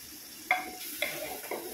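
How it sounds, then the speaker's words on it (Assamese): Rice for pulao fries in a pot with a soft steady sizzle, broken by three sharp scrapes of a spoon stirring the grains, close and fairly quiet. "এতিয়া মই চাউলকেইটা বহাই দি কেনে ভালদৰে ভাজি ল'ম"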